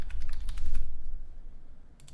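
A password is typed on a computer keyboard in a quick burst of close, crisp keystrokes that tails off after about a second and a half.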